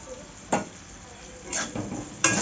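Vegetables frying in a pan for Bengali-style fried rice, giving a low background sizzle broken by a few short stirring scrapes and clatters of a utensil against the pan.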